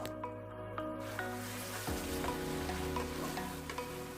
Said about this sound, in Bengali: চিকেনটা ভাজা হয়ে হালকা তেল ছাড়তে শুরু করলে